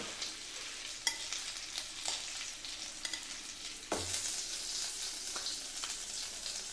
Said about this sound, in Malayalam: എണ്ണ ചൂടായിട്ടുണ്ടേ നമുക്കിനി ഇതിങ്ങനെ ഫ്രൈ ചെയ്തെടുക്കാം